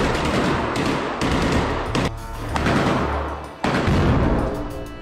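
Combat footage from the Israel–Hamas war in Rafah, with weapon fire and a rocket launched at Israeli soldiers: loud, sustained bursts of gunfire and heavy blasts roar continuously with short pauses, harsh and close, with no speech.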